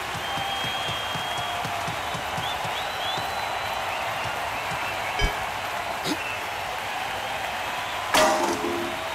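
Steady, dense crowd applause and cheering fills an athletics stadium in the Athletics Mania video game after a height is cleared, a continuous roar of clapping with a few brief louder bumps.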